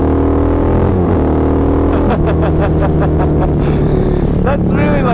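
A Harley-Davidson V-Rod engine runs at about 4,000 RPM, a loud, steady, throbbing roar close by with rising whine-like tones. Someone speaks over it.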